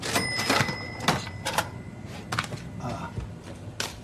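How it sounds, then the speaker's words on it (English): Cash register in a busy shop, with a ringing bell, clattering keys and a drawer banging shut in several sharp bursts over a murmur of background noise. "I'm just listening to the sound of the cash register. the ringing and the drawer closing."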